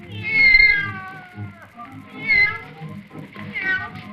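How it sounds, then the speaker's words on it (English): A cat meows on stage during a 1950 Howdy Doody television show, three drawn-out, wavering meows close and loud with brief pauses between them. "The cat came out too soon."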